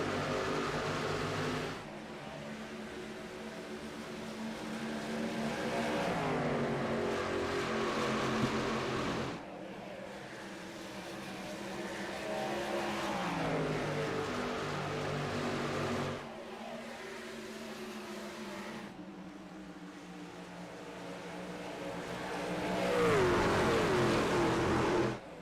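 Racing truck engines roar continuously in the iRacing video game at Darlington, rising and falling with repeated acceleration surges that give way to short drops between gear changes.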